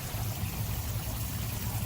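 Water runs out of a sump pump pipe in a steady, low gushing stream, continuous and fairly faint, with no voices.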